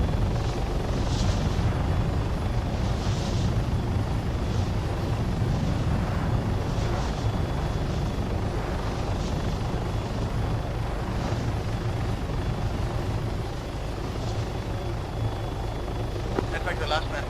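Steady, loud rotor and turbine roar of a helicopter in the military video game Arma 3, continuous and close throughout, with faint radio-style voices briefly under it.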